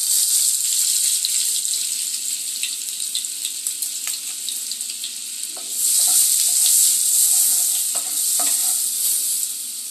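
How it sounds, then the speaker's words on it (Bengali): Oil and a spoonful of butter sizzle in a hot wok with a bright, steady hiss close by. The sizzle swells louder partway through, with scattered pops and no talking. "এবার কড়াইয়ের মধ্যে দিয়ে দেবো একটু সাদা তেল, কিন্তু দিয়ে দিয়েছি। দিয়ে দেবো 1 চামচ বাটার।"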